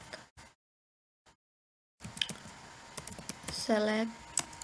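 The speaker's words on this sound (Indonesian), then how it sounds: "kita ketik select" Keys clatter on a computer keyboard as an SQL select query is typed, with a burst of clicks after a near-silent gap and a person speaking over the typing toward the end.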